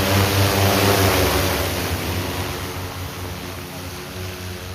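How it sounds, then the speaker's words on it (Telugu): An agricultural drone spraying pesticide over a crop field gives a loud, steady, whirring rotor hum with a tonal drone that holds throughout and eases slightly toward the end, with no talking. "చూశారు అండి మందు స్ప్రే అనేది ఎలా కొట్టాను డ్రోన్ ద్వారా"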